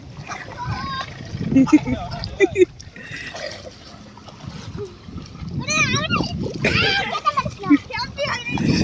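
Children swimming and splashing in water, the splashes scattered and partly buried under lively children's chatter and an adult's voice throughout.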